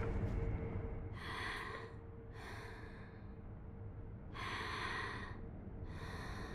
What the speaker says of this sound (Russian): Она ж не храпит, она сопит.